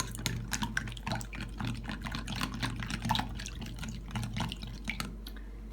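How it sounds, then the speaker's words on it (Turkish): A batter of milk, baking powder and salt for cheese pişi fried dough is whisked briskly in a bowl, giving a close, continuous wet clatter and slosh. "Şöyle bir çırpalım."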